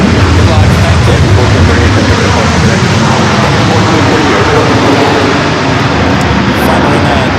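An Iberia airliner arriving at Los Angeles LAX airport, its broad jet roar loud and steady throughout, fading slightly toward the end.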